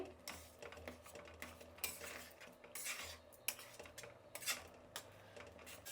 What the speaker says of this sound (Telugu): ఉండలు లేకుండా కలుపుకునేయాలి